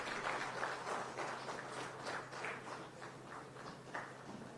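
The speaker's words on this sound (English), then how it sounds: "With a round of applause, ladies and gentlemen, we welcome the Honorable Chief Minister of Assam, Dr. Himanta Biswa Sharma." An audience at the inaugural session of a North-East zonal conference claps for the arriving Chief Minister of Assam, sustained applause rising and falling in waves, fairly faint and distant with a low hum beneath.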